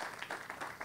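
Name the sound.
church congregation applause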